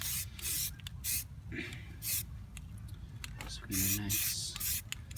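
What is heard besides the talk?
spray primer being sprayed on car wheel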